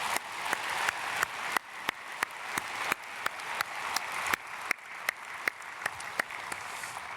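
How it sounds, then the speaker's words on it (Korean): Congregation at a church dawn prayer service gives a round of applause, scattered sharp claps rising over a steady hand-clapping wash, fairly distant and moderate in level, with no talking. "감사드리고 박수로 축복하겠습니다."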